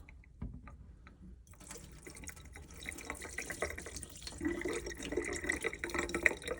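Water poured slowly over a glass bottle in a studio sink while cutting the bottle: after a quiet second, a steady running stream begins, splashing and gurgling and growing busier toward the end.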